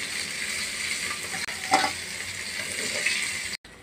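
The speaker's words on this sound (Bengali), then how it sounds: "তেল গরম হয়েছে, এখন আমি মাছগুলো দিয়ে এপিট ওপিট করে ভেজে নেব" Hilsa fish pieces sizzle in hot oil in a home kitchen, a steady bubbling crackle with a brief clatter of turning, continuous and close before cutting off abruptly.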